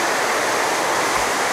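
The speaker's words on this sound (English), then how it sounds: "Next to raging river." Dense, steady broadband roar of a raging river rushing beside a mountain hiking trail at Panther Creek, loud and continuous with no pauses.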